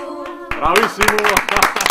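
Audience clapping breaks out after a choir performance at a choral interpretation festival, dense hand claps rising suddenly as a held sung note fades, with a voice audible over the applause.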